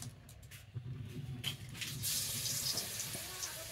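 Banana flower fritters coated in batter fry in hot oil in a village kitchen, a steady close hiss and crackle swelling louder as pieces go in, with brief talk over it.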